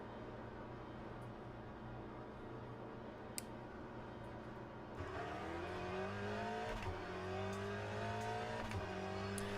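Aston Martin race car in Le Mans Ultimate at Monza, its engine a steady loud drone that rises into harmonic revving partway through, with rising pitch sweeps and faint clicks.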